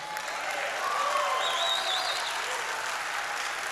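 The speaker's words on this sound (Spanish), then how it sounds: "Tres aplausos nada más." A church congregation claps together in steady applause, filling the space evenly from start to finish.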